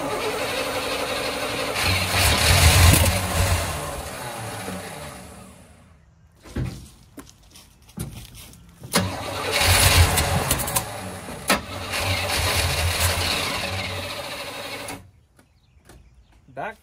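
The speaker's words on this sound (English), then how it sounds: "Backfiring like crazy." An 1982 Chevrolet Corvette C1-era car engine with 40k original miles, fuel-starved after two fires, revs in loud rough bursts with sharp popping backfires between surges, cutting out and restarting, with people talking nearby.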